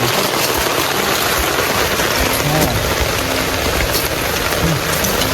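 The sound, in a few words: heavy rain falling in the forest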